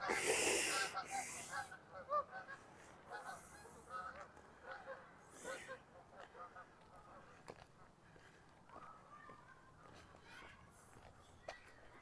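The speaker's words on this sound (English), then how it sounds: "Oh, more geese. There they are. Oh, close overhead." A flock of geese flies close overhead and honks loudly at first, then the calls thin out into scattered honks as the birds pass. Someone speaks softly in the background.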